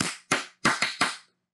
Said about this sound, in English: I am just going to clap to get a line on here so I know where to cut.